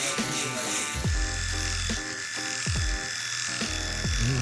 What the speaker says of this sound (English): then I'm gonna use my Instinct shaver